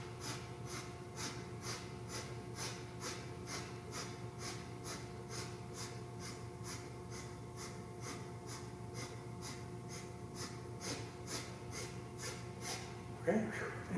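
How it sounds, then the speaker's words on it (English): A person does a rapid sniffing breathing exercise, a long run of quick, evenly spaced nasal sniffs in a steady rhythm, fairly faint and close, with a louder breath near the end. "then you would do the 30 sniffs this way, 30 sniffs that way"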